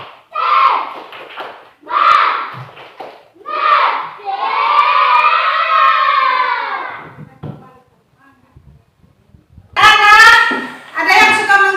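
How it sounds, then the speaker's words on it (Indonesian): Schoolchildren in a classroom perform a tepuk semangat clapping chant, loud and close: bursts of shouted chanting and claps in a quick pattern, a brief pause, then a final loud cheer. "Coba tepuk semangat dulu"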